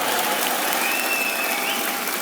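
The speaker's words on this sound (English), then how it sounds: "give him a round of applause" A crowd at a political rally in British Columbia bursts into continuous, even applause, a dense wall of clapping heard from within the audience.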